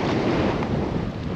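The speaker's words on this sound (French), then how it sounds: "attention au vent, il y a une belle rafale" A strong gust of wind buffets the microphone on a sailboat's stern at anchor off Saint Lucia, with a loud, rumbling roar that holds steady throughout.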